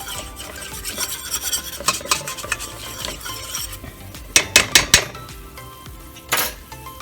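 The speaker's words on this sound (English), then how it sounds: "And I'm going to cook this flour." Flour roux for homemade beef and noodles being stirred in a pan, a metal utensil scraping and clinking steadily against the pan up close, with a few sharper taps near the end.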